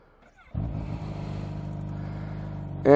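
A Kawasaki H2SX motorcycle engine cranks and catches after a brief quiet moment, then settles into a loud, steady, close idle rumble that swells near the end.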